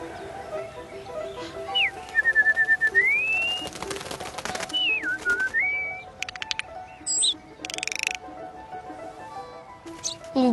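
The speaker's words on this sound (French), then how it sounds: "Ta musique, c'est le rappel des oiseaux de Rameau." A clear whistled melody of Rameau's harpsichord piece Le Rappel des Oiseaux, with sliding bird-like phrases and short chirps scattered over a low musical background.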